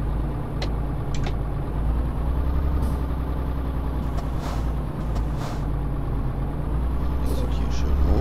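A truck engine drones steadily as it drives in Euro Truck Simulator 2, a constant low rumble with a few faint clicks and brief higher tones on top.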